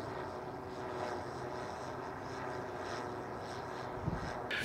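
Propellers of a DJI Matrice drone, shown with a custom gas meter mount, buzz in a steady airborne whir at moderate distance, holding constant for the whole stretch with a brief bump near the end.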